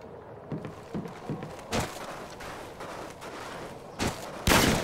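Gunfire in the video game Search and Destroy, scattered shots and short bursts popping over several seconds, a few louder cracks standing out near the end, with no talk over it.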